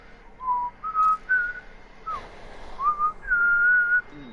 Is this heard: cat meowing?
no